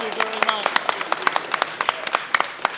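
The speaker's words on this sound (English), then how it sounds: "round of applause" Scattered, distinct claps and brief applause from a small group at a post-fight press conference for Misfits 005, sharp individual hand claps with voices talking and chattering over them.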